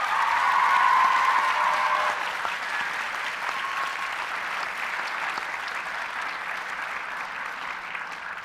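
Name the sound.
audience applause for graduation staff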